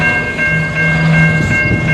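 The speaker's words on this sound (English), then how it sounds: "it sounds like this train is stopping." A train at 14th Avenue West, earlier moving at over 70 km/h, slowing toward a stop: a steady rumble of rolling wagons with a sustained high metallic squeal from the wheels and brakes, close and fairly loud throughout.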